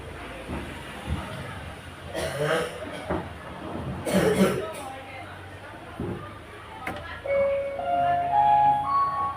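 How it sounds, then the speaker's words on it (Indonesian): A child coughs a few times amid classroom chatter and background voices, with a melodic tone playing faintly toward the end. "itu batuk-batuk"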